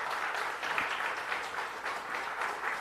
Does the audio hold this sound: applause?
yes